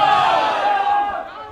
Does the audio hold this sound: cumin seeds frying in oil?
no